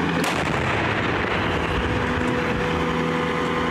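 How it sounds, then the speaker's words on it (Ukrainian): Caesar 155 mm self-propelled howitzer firing a single booming shot at the start, followed by a sustained rumbling roar and engine drone, loud and close, with no talk. "Гармата!"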